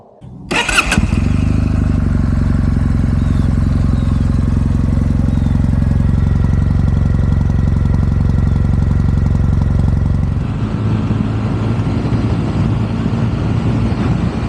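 A Kawasaki W800 motorcycle starts with a sharp burst, then its engine runs with a loud, steady, close throb. The tone shifts and roughens near the end while riding on a country road.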